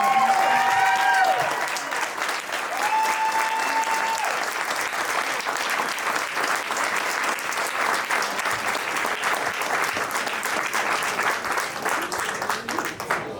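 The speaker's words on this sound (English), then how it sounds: "Can we get more than one clap in a row for Jessica?" Sustained applause from an audience at a Howard County Executive campaign launch event for Jessica Feldmark, dense steady clapping lasting the whole stretch, with a brief spoken voice at the very start before the clapping fills in.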